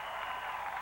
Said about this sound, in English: Hersey players in the sidelines all clapping